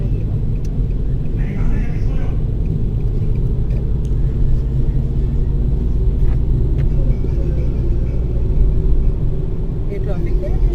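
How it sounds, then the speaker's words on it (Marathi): Road traffic in Dubai heard from inside a moving car: a steady low engine and tyre rumble with passing vehicles, continuous and fairly loud throughout. "हे ट्रॅफिक आहे"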